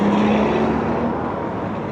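Car traffic passes on a city street beside a large church in Querétaro, Mexico, a loud continuous engine and tire rush, close by and slowly fading, with no talking.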